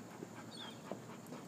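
Dogs nearby during pit bull obedience training give faint, brief sounds, soft panting with a short whimper-like note, over about a second and a half of quiet room tone.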